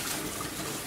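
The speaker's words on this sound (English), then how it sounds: "that's really bubbling" Brown pancake batter bubbling as it cooks on a griddle in South Korea, a steady close sizzle and bubbling hiss filling the moment without pause.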